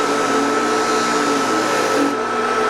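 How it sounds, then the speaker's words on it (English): A jewellery polisher motor whirs steadily and close by, a continuous even hum and whine that briefly drops slightly in tone near the end, with no talk. "Oh, this polisher motor."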